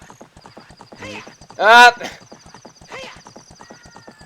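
Epona, the horse in the video game Zelda Ocarina of Time, gives a loud whinny between softer neighs over steady clip-clopping hooves, with a short spoken exclamation.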